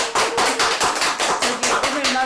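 Rhythmic clapping from a small audience at a book launch talk, distinct repeated claps in a steady beat, fairly close, with a voice underneath.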